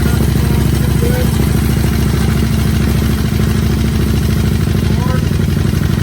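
An Aprilia Caponord motorcycle engine runs close by as the clutch is let out, a loud, steady low thumping rumble with rhythmic mechanical clatter throughout.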